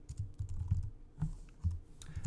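Typing on a computer keyboard while setting tab alignments in QuarkXPress 7: a close, steady run of quick soft key clicks with small irregular pauses and no talking.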